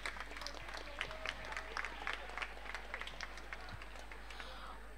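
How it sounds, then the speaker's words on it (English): Audience applause for participants at the close of a music competition, the Late Shri V. V. Bhat Memorial Trophy Competition 2024: steady, fairly faint clapping from a crowd with scattered sharper claps, lasting about five seconds. "the participants truly deserve a round of applause, dear audience"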